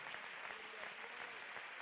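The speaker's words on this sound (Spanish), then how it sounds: "¿Cuántos damos un tributo de aplausos a aquel que es el Todopoderoso?" Congregation at a Spanish church convention applauding, a continuous wash of clapping heard somewhat distant and soft.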